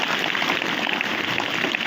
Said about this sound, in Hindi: गुंजन के लिए ताली बजाइए।